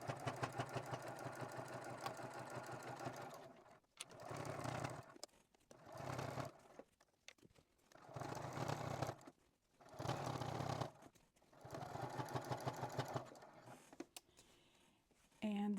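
A sewing machine stitches quilt binding in several close, steady whirring runs of a second or two each, separated by brief pauses, with a soft mechanical hum and quiet handling noise.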